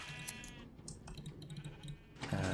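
Sheep bleat faintly in the Minecraft video game, short wavering cries mixed with quick keyboard taps and clicks, a louder burst closing it out.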